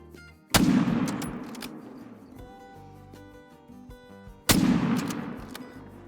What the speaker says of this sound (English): Since these guys are actually away from where their zone would be, we're actually going to go ahead and shoot some of them.